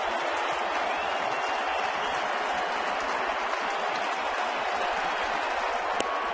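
A sellout crowd at Target Field roars in a steady, dense wash of cheering and applause during a Royals at Twins baseball game, loud and unbroken with no clear talk.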